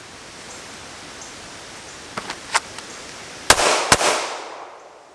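Two sharp, loud shots from a Springfield Hellcat pistol ring out in quick succession near the end, after a few fainter distant pops over steady outdoor hiss.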